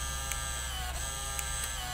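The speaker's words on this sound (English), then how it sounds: "the printer will come into play" A printer runs steadily while printing out slope and bias values, a continuous close mechanical whir with a few faint clicks and ticks, no talking.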